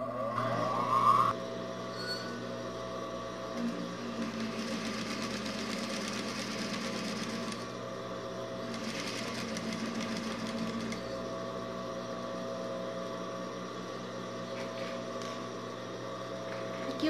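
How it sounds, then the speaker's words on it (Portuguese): A sewing machine stitches fabric while a built-in pocket is sewn, giving a steady, close, fast mechanical whirr that runs almost unbroken for the whole stretch after a brief louder start. "Aí eu vou passar a máquina aqui."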